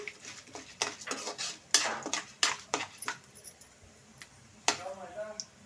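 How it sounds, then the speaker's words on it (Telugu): A metal spoon clatters and scrapes in a cooking pan as curry leaves are stirred for coconut rice, giving an irregular run of close clinks and taps that thin out toward the end, with a brief voice near the close. "రెండు రెబ్బలు కరివేపాకు వేసుకుందాం ఇప్పుడు కలబెట్టుకుందాం బాగా ఒకసారి"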